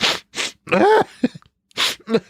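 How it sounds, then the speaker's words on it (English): Several sharp, breathy sneezes burst out one after another, loud and close, with short gasps and vocal sounds in between. "I'm not going to listen to a sneeze again"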